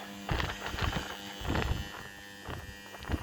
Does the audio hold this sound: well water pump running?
yes